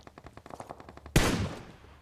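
Gunfire in the battle royale video game BGMI (PUBG): a rapid run of quieter automatic shots, then one sharp, loud blast that rings out and fades. No voices.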